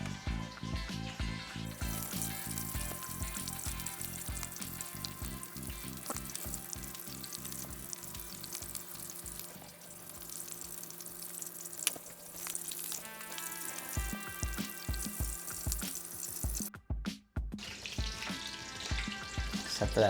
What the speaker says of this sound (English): We got about a 1/2 inch of oil in there.